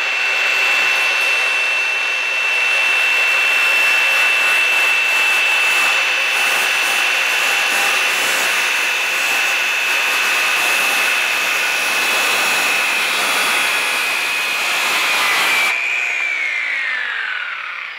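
A saw runs at full RPM through a wooden rafter, a loud steady high-pitched whine that holds for about fifteen seconds before the pitch drops as the blade spins down, with no talking.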